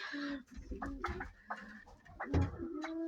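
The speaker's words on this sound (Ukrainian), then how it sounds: "Сидить голуб на яйцях." A homing pigeon sitting on eggs in an aviary coos nearby in a few soft, throaty phrases, with some low background noises between the calls.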